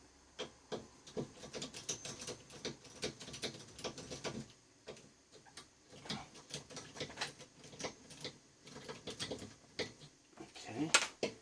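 Screws being worked out of metal brackets on a Thorn Automation linear power supply during a teardown, faint irregular clicking and ratcheting ticks at close range, with no speech over them.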